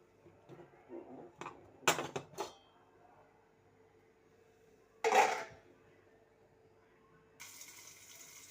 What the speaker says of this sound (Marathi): आता गॅसवरती टोप ठेवून फोडणी द्यायची